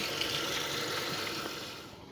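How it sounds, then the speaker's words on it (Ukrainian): Marinated cucumbers being rinsed under a running kitchen tap, a steady close hiss of flowing water with no pauses and no voices. "огірки промаринувалися і ми їх промиваємо під проточною водою"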